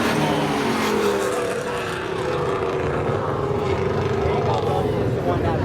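Chevy Camaro race car at a Seekonk Speedway spectator drags event, a loud continuous engine roar running through turns three and four, with a commentator talking over it throughout.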